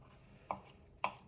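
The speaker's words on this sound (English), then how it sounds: "So we're just chopping that up." Two crisp knife chops on a cutting board while preparing keto tuna salad, spaced about half a second apart, close and sharp against a quiet kitchen.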